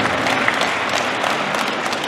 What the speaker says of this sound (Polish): Tak, oklaski się należą.